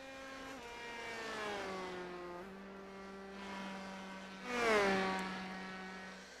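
Race car engine in iRacing's TNT Promotions Bolt Series: a droning, harmonic tone that shifts pitch through gear changes, then swells louder as the car passes close by and trails off.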